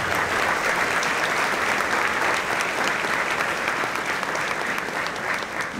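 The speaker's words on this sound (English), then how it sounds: "Now let's give him a big round of applause" Dense, steady audience applause fills a football banquet hall, many hands clapping loudly and evenly for several seconds without a break.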